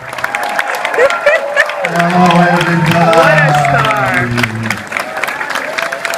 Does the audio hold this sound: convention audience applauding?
yes